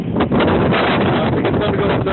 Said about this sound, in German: Schau dir nur diesen Sandsturm in Texas an.